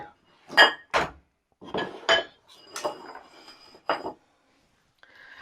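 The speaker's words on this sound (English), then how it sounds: "what I'm now going to do is to get a plate" Plates and cutlery clink and knock together in a kitchen as a plate is taken from a stack of dishes, about six sharp close clatters spread out, then quiet, with no talk.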